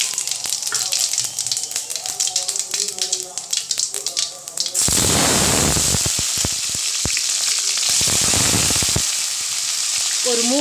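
Fennel seeds dropped into heated oil in a kadai for an egg masala kulambu: a voice talks at first, then a sudden loud, crackling sizzle takes over and holds steady, with brief quieter dips and faint speech returning.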